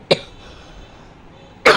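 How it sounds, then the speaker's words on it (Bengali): A person coughs twice, each a sharp, close burst, with a quiet pause of about a second and a half between them. "একটু কাশি হয়েছে।"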